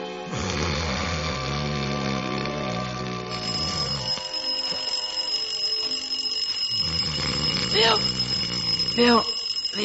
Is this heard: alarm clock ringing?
yes